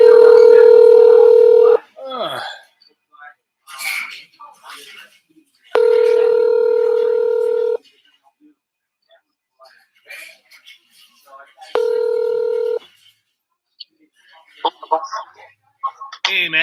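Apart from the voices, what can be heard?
telephone dial tone and dialing tones, calling someone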